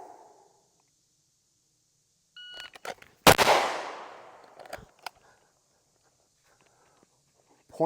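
A single loud handgun shot fired on the draw from a Level 3 holster at a shooting range, a sharp crack with a decaying tail, followed by faint clicks and small handling noises.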